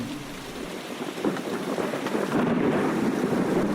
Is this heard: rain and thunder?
yes